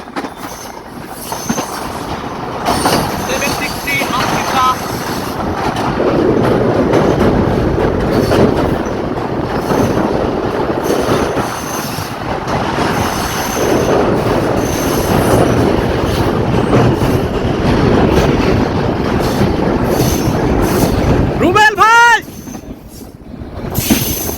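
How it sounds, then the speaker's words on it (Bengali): Chitra Express passenger train crossing the red bridge at Alamdanga, Bangladesh, with a steady rolling rumble and clattering wheels throughout, rising to loud squealing wheel flanges near the end. "চিত্রা এক্সপ্রেস আলমডাঙ্গা ছেড়ে যাচ্ছে হচ্ছে আলমডাঙ্গা লাল ব্রিজ লাল ব্রিজ অতিক্রম করতে চলেছে চিত্রা"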